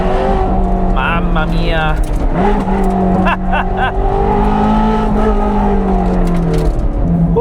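A Ferrari 430 Scuderia's engine revs hard from inside the cabin, its rising and falling tones climbing repeatedly under loud road noise, while a man exclaims briefly.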